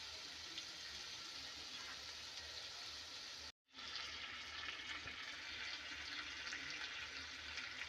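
Hot water poured into a pot of chicken and potato curry, a steady close rush of liquid that cuts out briefly partway through and then resumes, with no voices.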